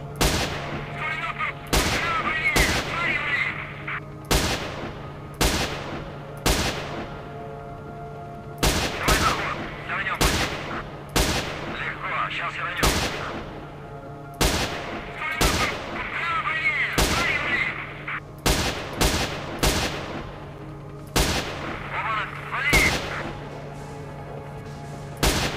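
Video game gunfire cracks out loud and close in irregular single shots and short clusters, repeating over about twenty-five seconds with a faint steady hum between bursts.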